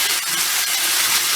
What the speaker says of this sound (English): So what you're doing is you're just going to saute the rice around for a while.